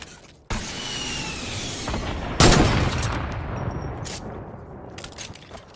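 Gunfire in the video game Fortnite: a sustained burst of rapid shots runs for a couple of seconds, then a louder, sharper volley hits with a few scattered reports trailing off, fairly close and with no talk over it.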